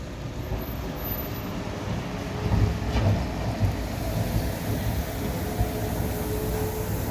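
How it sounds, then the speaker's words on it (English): A Sheffield tram moves through the city centre: a steady low rumble of rolling wheels on track with a faint high whine, swelling slightly midway and continuing evenly. "Tram. We have a tram in our town."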